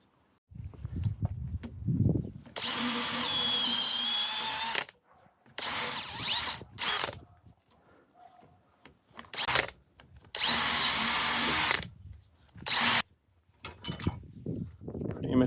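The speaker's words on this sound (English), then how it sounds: "Yeah, let's drill it." A power drill whirs into an axe during restoration in several sustained bursts of a few seconds each, with short pauses between, close and loud, with brief handling noises.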